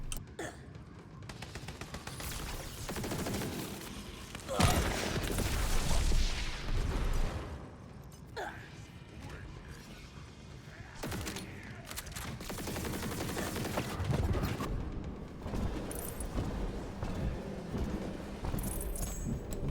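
Shooting in a video game while building up a melee attack: sustained bursts of rapid gunfire for about twenty seconds, loud and dense, with heavier blasts mixed in and no voices.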